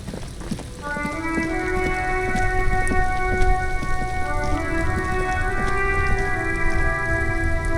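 Steady, dense rainfall with rumbles of thunder in the Disco Elysium video game, a loud continuous wash with sustained tonal notes drifting over it.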